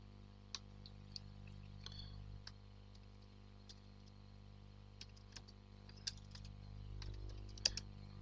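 Keystrokes on a computer keyboard as a router command is entered, sparse and irregular taps spread over several seconds, faint and close over a steady low electrical hum.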